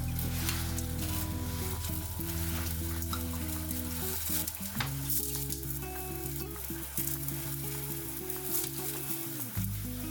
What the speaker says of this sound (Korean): 양파가 투명해지면 사과 주스를 넣고 가볍게 끓여줍니다.